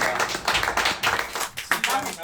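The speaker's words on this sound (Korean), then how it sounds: "우승한 빵님에게 박수" Applause for a winner in a Korean esports stream studio, scattered claps from a small group mixed with talk and laughter, brief and moderately close.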